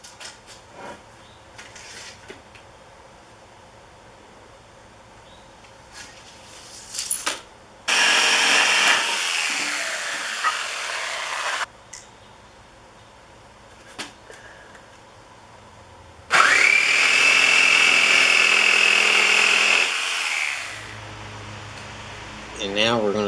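A power saw cutting wood for a gate frame in two separate loud whining cuts of a few seconds each, with a quieter workshop between them.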